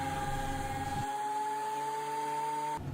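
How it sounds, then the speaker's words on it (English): A planer smooths glued-up wood boards with a steady, tonal machine whine and a rough rumble that drops away partway through, leaving the high hum running alone until it cuts off at the end. "make sure the whole thing is the same thickness all the way across by running it through the planer"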